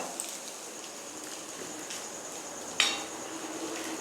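Chowmein noodles frying in a pan as vegetables go in: a steady low sizzle with faint scraping and stirring, plus one sharp clink of a utensil against the pan near the end.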